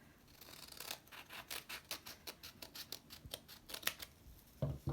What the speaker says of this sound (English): you're just going to cut straight down the middle